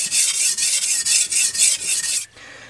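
A damaged Shun cleaver's edge corner is carved off on a sharpening stone: a loud, steady rasping scrape repeated in about ten rhythmic strokes, then stopping abruptly near the end.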